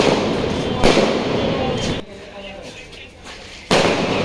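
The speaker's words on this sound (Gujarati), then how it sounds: "ભાઈ બે ટેટા પડવાનું ચાલુ કર્યું છે." Firecrackers burst in loud, sharp bangs, several going off close by in quick succession during a Diwali celebration, with voices talking among the blasts.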